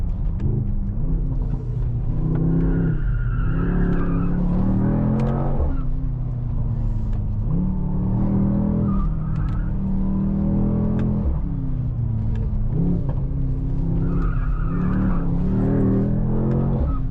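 A 2024 Mercedes-AMG GT 63 S 4-Door Coupé with its 843 hp biturbo V8 being driven hard, its engine droning and rising through repeated revving surges and gear changes, loud and close from inside the car.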